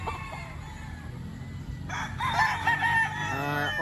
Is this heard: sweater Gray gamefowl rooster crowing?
yes